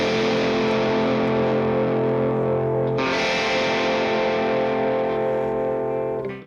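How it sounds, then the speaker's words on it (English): Electric guitar run through TONEX and AmpliTube with a rack-style EQ and compressor, a distorted sustained chord that rings, then shifts into a denser, brighter texture and holds before cutting off. "we're going to have a look at the first electric guitar track."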